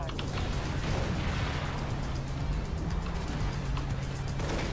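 Dense, continuous game-audio rumble of explosions and engine noise while driving a vehicle in the video game Far Cry 3: Blood Dragon, with sharp bursts scattered throughout and no clear talk.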